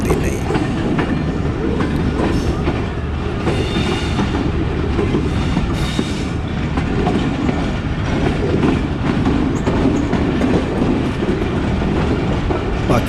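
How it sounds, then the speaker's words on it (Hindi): Pakistan Express passenger train runs steadily on the rails on the Multan to Rawalpindi line, a dense, continuous rumble with rattling clatter heard close up throughout. "पाकिस्तान एक्सप्रेस अब अप्रोच बना रही है अलीपुर चट्टा के लिए।"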